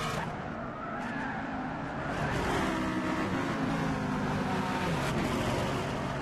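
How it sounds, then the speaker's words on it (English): Race cars in Gran Turismo 6 during a GT series race at Spa, with a loud, continuous engine roar and tire squeal from several cars running together, sustained throughout. "As Jamie is creeping up closer to the back of the Decamber 95"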